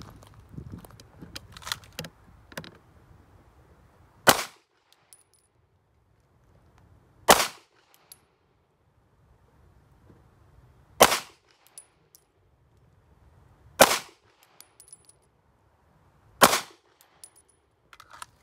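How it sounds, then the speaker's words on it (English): Five pistol shots fired slow and deliberately at a target, each a sharp, loud crack standing alone, spaced a few seconds apart with quiet room noise between. "5 shots, slow fire"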